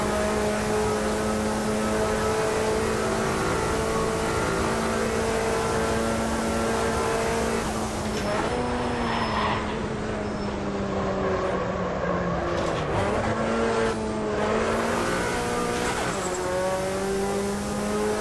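A race car in the Automobilista 2 racing game strains in fifth gear at Kyalami, its engine holding a long sustained drone, dipping and shifting pitch briefly midway, then climbing again, loud and close with no voices.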